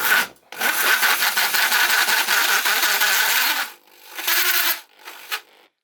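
An 83mm hole saw cuts into a plastic Ford Fiesta Mk6 dash vent, a loud continuous grinding rasp for nearly four seconds, then two shorter bursts after brief pauses, with no talk.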